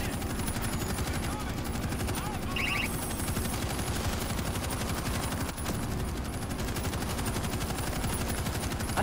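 Rapid automatic gunfire in the video game World War Z: Aftermath rattles steadily throughout, dense and continuous over a background rumble, with no clear talking.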